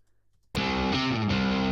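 After a brief silence, a Native Instruments Prime Bass preset loop starts abruptly, a loud, dense distorted bass line with sustained gritty notes playing on, no voices.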